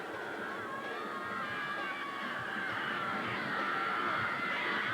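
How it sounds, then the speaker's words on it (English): The Waianae cheering section roars in the stands at a 1992 OIA high school football playoff game against Waialua, a sustained, distant crowd din that swells slightly toward the end, with no talk over it. "As the Waianae cheering section continues to boogie out"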